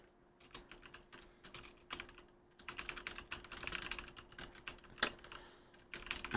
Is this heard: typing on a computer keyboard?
yes